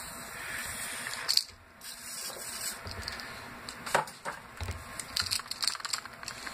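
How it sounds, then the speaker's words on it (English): WD-40 sprayed onto cylinder hone stones during engine cylinder honing, heard as short close hissing spurts mixed with metallic clicks and handling clatter. "Get some more WD-40 in there."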